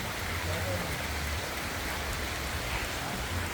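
Steady rain falling in a rainforest in Côte d'Ivoire during a motorbike ride, a dense, even hiss of drops that holds at one level throughout, with a low rumble running underneath.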